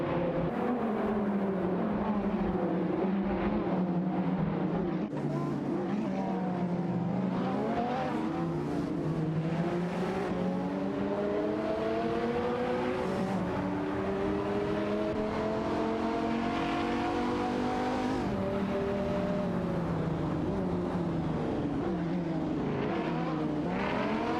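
Engines of video game race cars, a Dodge Viper SRT and a Lamborghini Murcielago SV, roar and rev continuously, with rising and falling pitch through gear changes and occasional tire squeal, loud and steady with no talk.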